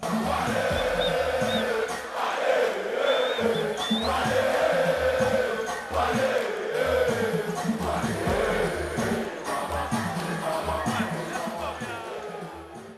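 A large charged crowd roars and cheers continuously as the headline act makes his entry, loud shouting voices surging in waves over a pulsing music beat.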